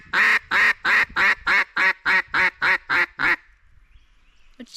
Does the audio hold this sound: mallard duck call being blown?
yes